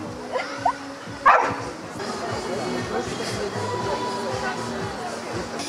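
Several dogs yip and bark in a few short, sharp bursts near the start, followed by a busy murmur of people and more scattered dog sounds in the background.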